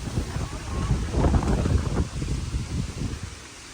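Strong storm wind over rural Thai farmland roars and buffets the microphone in a steady, rumbling rush, with gusts swelling and easing throughout.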